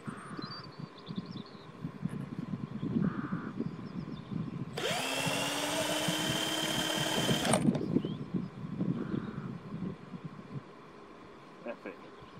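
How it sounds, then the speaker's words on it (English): An electric drill drives a winch for launching a model glider or sailplane. It whirs loudly and steadily for about three seconds with a rising pitch, then stops. Outdoor wind noise and a voice are heard before and after. "Electric winch using an electric drill."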